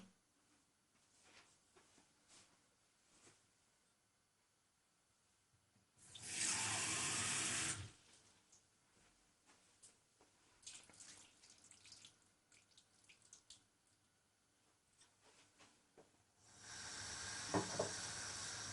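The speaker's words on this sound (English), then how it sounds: "I'm adding just half a glass of water." Half a glass of water poured into a hot cooking pan of chicken chettinad on a medium flame, a loud rushing hiss and sizzle for about two seconds, with a second burst of sizzling near the end amid quiet kitchen clatter.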